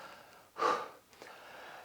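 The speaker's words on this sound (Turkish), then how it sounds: "Bir nefes alayım önce çok hızlı konuştum." A single quick, sharp intake of breath, close to the microphone and fairly soft, followed by quieter breathing, with no talking.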